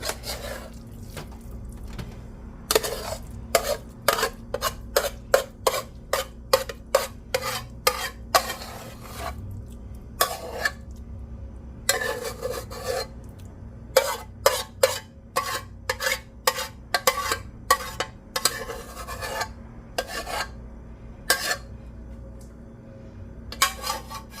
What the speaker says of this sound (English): Just spread it out into an even layer.